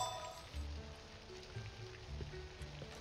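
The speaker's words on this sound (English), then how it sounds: "Ooh, it's a rainy day" Steady rainfall in the farming life game Littlewood, a soft continuous patter on surfaces with faint low ambient tones underneath, quiet and unbroken.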